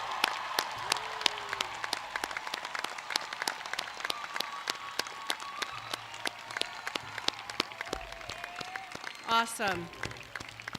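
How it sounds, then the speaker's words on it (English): Applause from the audience for graduates at a college commencement ceremony, a steady patter of clapping running throughout with a brief spoken remark near the end. "About one more round of applause for all our graduates."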